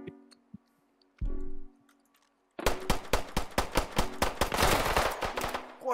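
Automatic gunfire in a Roblox shooter rattles off in a fast, loud, sustained burst of evenly spaced shots, preceded by a few quiet clicks and a short whoosh.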